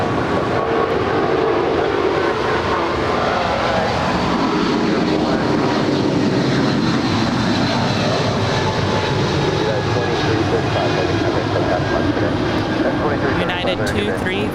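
A heavy jet airliner lands on runway 25 right at Los Angeles International Airport, its engines making a loud, continuous broadband roar and rumble throughout.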